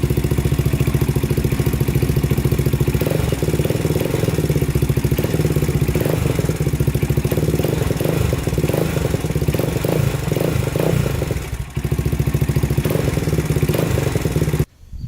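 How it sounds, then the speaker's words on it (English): A Honda 400ex ATV engine idles loud and close, a steady throbbing putter with slight throttle swells running throughout before cutting off at the very end. "We'll let it idle here, whipping the throttle for about 10 minutes."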